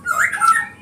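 Jalak starlings released from a cage give a harsh squawk with whistled, rising and falling notes, close and clear, lasting under a second.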